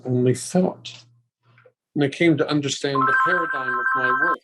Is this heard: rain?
no